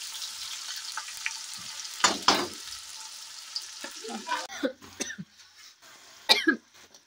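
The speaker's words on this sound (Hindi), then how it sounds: "तो अब प्याज को भून लेते हैं थोड़ा।" Onions frying in a pan with whole spices and cumin, a steady soft sizzle broken by a couple of louder scrapes or clatters and a cough-like burst, with irregular stirring noises later.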